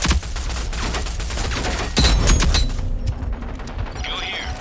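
Gunfire from the video game Rogue Company in a pistols-only match: a loud burst of rapid shots that ends sharply, trailing into quieter game effects.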